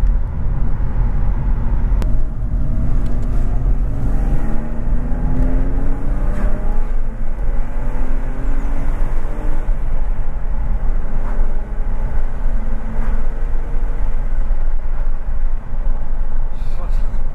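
BMW E36 with an M50 engine and a DIY copper-pipe manifold accelerating, its engine note rising steadily in pitch over and over, loud and close, with people chatting over it.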